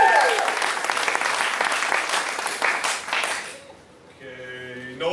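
Audience applause at a martial arts belt ceremony, a dense burst of clapping and cheering that fills the first three and a half seconds and then fades as a speaking voice takes over.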